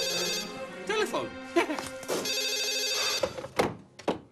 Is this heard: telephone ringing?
yes